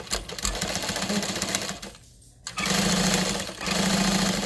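A sewing machine stitches a tote bag in loud, steady bursts of rapid mechanical whirring, pausing briefly in the middle before running on again.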